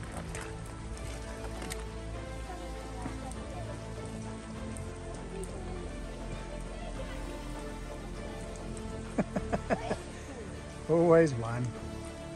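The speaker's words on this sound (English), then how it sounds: "We've got it on a good old moody West Coast rainy day" Steady rain patters on a surface on a moody rainy day on New Zealand's West Coast, a constant close hiss beneath brief speech and a few clunks near the end.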